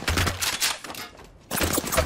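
Bursts of rapid gunfire from the video game Apex Legends rattle loudly, then a short quiet gap before another volley erupts.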